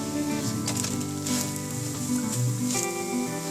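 Spinach and cheese paratha flatbread cooking on a hot pan gives a steady, close sizzle with soft patter from the frying dough, continuous and even throughout with no talking.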